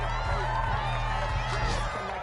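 Stadium crowd noise from an American football video game swells in a steady, loud roar of cheering and applause after a defensive stop, with no talk over it.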